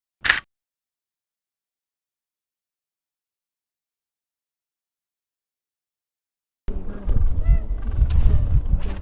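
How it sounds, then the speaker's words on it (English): Penguins call in Antarctica. A short burst is followed by long silence, then a few seconds of honking, goose-like calls against rumbling wind and background noise. "Bunch of penguins everywhere here."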